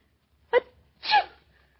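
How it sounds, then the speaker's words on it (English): Two sharp sneezes close by, a quick short one followed by a fuller, breathier one, against near silence. "Who sneezed?"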